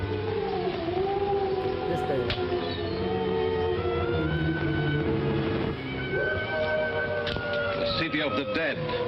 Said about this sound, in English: do they too hear the howling of the frightened dogs?